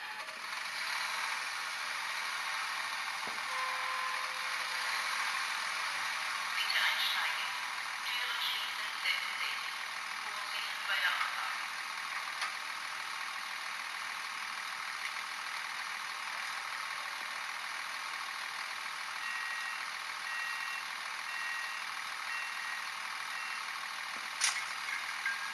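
A Minitrix N gauge Lint railcar model running on DCC sound gives off a faint, steady synthetic diesel hum and whine with a few small clicks and beeps, quiet and continuous throughout.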